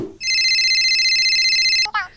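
Telephone ringing during an outgoing phone call, one long electronic ring tone held steadily for nearly two seconds, loud and clear, then cut off sharply as the line picks up.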